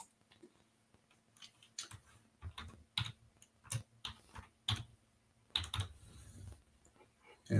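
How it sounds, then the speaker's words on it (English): Someone types on a computer keyboard, a close, irregular run of crisp key clicks in short bursts, with no talking. "Let me just type it in here."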